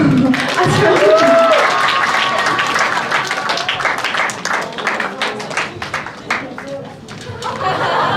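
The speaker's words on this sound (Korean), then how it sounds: "전도사님 박수로" A crowd claps together in a steady, dense burst of applause, with voices and murmuring mixed in near the start, at a school chapel service.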